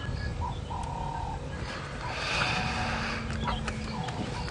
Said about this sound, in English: It's wonderful to hear these different bird sounds